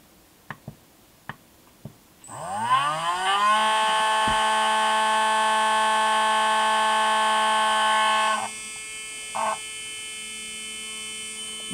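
A brushless RC car motor on a Team MRR setup during a timing check, a few faint clicks before it spins up into a loud, steady whining hum lasting several seconds, then stops with a brief blip after.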